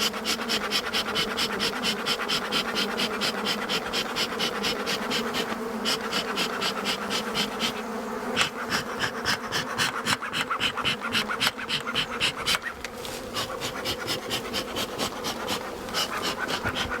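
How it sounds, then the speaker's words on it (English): An opened, agitated honeybee hive roars with a dense, continuous swarm buzz, loud and close, with many individual bees droning past nearby throughout. "those bees are mad"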